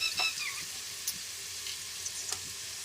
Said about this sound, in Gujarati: વઘાર આવે એટલે ડુંગળી નાખી દઉં